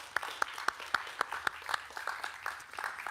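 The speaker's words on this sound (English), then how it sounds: "An applause for her, please." Audience applause for a speaker at a church-related community event, a few distinct claps ringing out over a soft, scattered patter of hands, modest and fairly distant.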